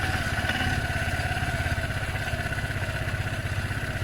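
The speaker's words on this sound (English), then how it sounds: "Whoa! Something slightly rattling." An Aprilia Sportcity Cube 300 salvage scooter engine idles nearby with a steady, pulsing mid-pitched putter and a slight metallic rattle running underneath.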